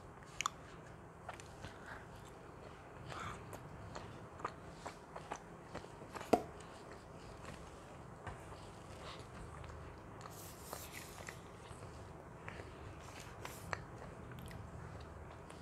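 Cookies being chewed at close range, with faint, steady crunching and soft bites over low background noise and a few sharper crackles.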